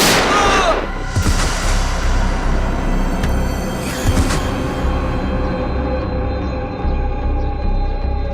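Gunshots in a tense police-drama confrontation: a few sharp bangs burst out over a loud, dense background rumble, with raised voices in the scene.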